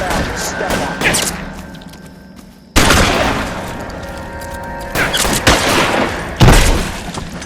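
Gunfire in the video game LA Noire comes as a burst of loud, booming shots and rapid cracks that hit hard and then fade. Further volleys follow among quieter stretches.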